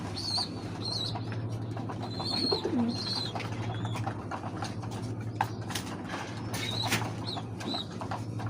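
Pigeons kept in a home loft in winter give soft cooing calls among faint chirps and light creaks, set over a steady low background hum with no talking.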